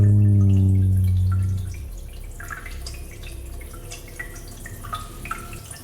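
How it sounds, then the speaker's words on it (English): A steady trickle of urine splashing into toilet water with scattered drips, following a brief low tone at the start; close and fairly quiet. "Peeing sound effect. Peeing in a toilet."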